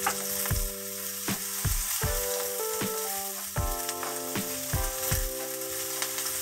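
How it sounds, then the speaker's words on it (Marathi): Onion sautéing with chilli and garlic in a pan sizzles steadily, with a spatula scraping and knocking against the metal at a regular rhythm, close and fairly loud with no voices. "आता मी कांदा घालून घेते याच्यावर। आता आपल्याला कांदा पण परतवून घ्यायचा आहे।"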